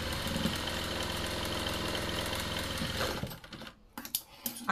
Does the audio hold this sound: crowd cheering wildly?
no